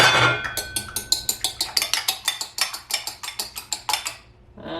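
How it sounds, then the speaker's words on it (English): An egg is whisked briskly with a fork against a bowl while making gnocchi. The clicks come close, sharp and rapid in an even rhythm and stop abruptly just before the end. "beat up an egg"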